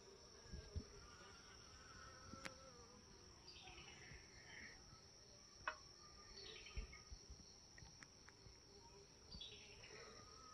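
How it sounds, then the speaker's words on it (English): Honey bees buzzing around sweet potato slips on a plant-filled patio: a faint, steady insect drone with occasional closer buzzes passing by, and soft outdoor clicks and knocks in the background. "the bees really love these sweet potatoes for some reason"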